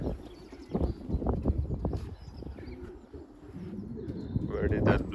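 Homing pigeons coo softly and repeatedly close by, returning home from a 30 km training race, with scattered rustling and shuffling sounds around them.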